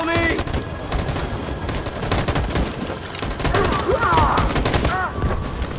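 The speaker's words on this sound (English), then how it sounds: "That machine gun is taking down everything that oh moves." Rapid machine gun fire in a Detroit battle scene of a video game, dense overlapping bursts rattling continuously and loudly throughout, with chirping effects and faint voices in the mix.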